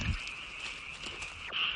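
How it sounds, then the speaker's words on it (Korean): An American bullfrog croaks at a fish farm with a sustained, resonant call close by, a continuous throaty drone lasting the whole moment with a slight rise near the end. "양어장에서 들리는 황소개구리 울음소리에 밤잠을 설칩니다"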